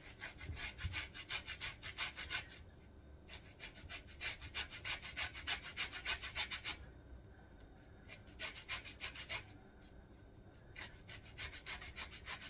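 Lemon being grated for zest while making lemon brownies, a steady rhythmic rasping of peel against a grater in repeated close bursts with short pauses between strokes.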